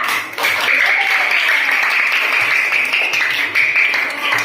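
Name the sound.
classroom applause for a student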